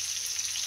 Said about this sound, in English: I'm going to just kind of like saute these up, and we're going to make them all nice and browned up.